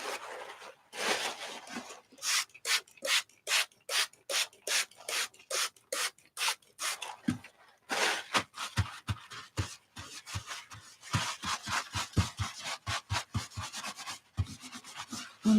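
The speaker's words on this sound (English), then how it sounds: "And just get the modeling paste off." Modeling paste being scraped and rubbed off an art journal page, a run of quick rhythmic rasping strokes, close and fairly loud, repeating steadily with short pauses and no talking.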